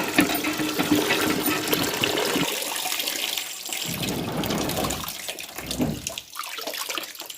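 Water runs and splashes while soaked rice for biryani gets rinsed, a steady gush with a few brief breaks, close and moderately loud.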